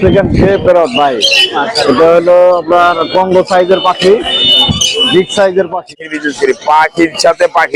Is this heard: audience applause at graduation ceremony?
no